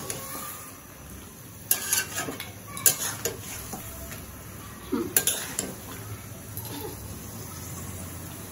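Mutton being stirred and sautéed in a pot for khasir mangsho, heard as intermittent metal spoon scrapes and clatters against the pan over a faint background hiss, close by, with no speech.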